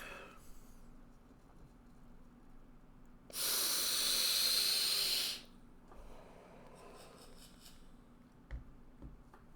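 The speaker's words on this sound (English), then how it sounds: "I'm gonna hit my vaporizer while it does this." One long airy hiss of a person inhaling from a vaporizer, lasting about two seconds, set within quiet room tone with faint soft breaths before and after.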